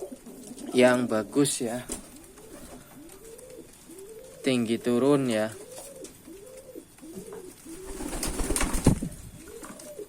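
Racing pigeons of a high-flying breed coo in a steady rhythmic series of soft, low, rounded calls, close by, while someone talks intermittently over them.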